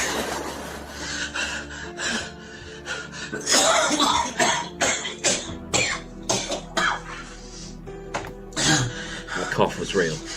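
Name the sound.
cough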